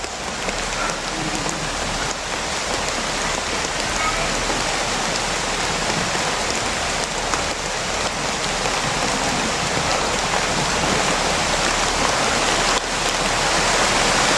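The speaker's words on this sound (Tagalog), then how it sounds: "Malakas na yung ulan Brad" Heavy rain pours down in a dense, constant hiss of drops striking surfaces, loud and close throughout with no letup.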